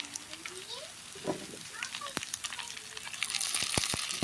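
Pumpkin shoots frying in a kadai (wok) with oil, crackling and hissing steadily, with a few sharp pops and a louder burst of sizzle toward the end.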